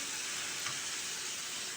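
Potatoes frying in hot oil give off a steady, dense sizzle that runs unbroken throughout, quiet and close, with no voices.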